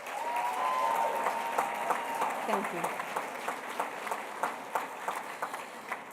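An audience at a teachers' awards gala applauds its teachers, the clapping steady and moderately near, then thinning into scattered claps as a voice speaks over it.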